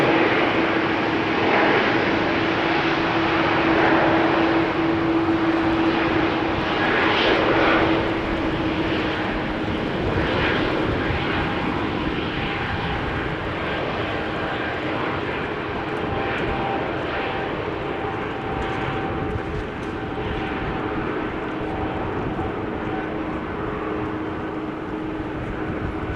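A one-year-old airliner, first flown in June 2023, rumbles at a wet, rainy Amsterdam Schiphol Airport: a steady, fairly loud engine roar with a droning hum that fades slightly toward the end, no voices.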